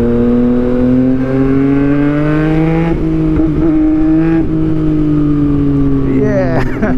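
A Yamaha MT-09 motorcycle on a Sunday ride drones with a steady engine note, rising and falling slightly through gentle leans, with wind noise and a voice chattering over it.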